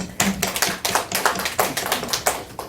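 A church congregation applauds young members, a steady burst of hand clapping lasting a few seconds with rhythmic peaks, fairly loud and close, with no talking over it.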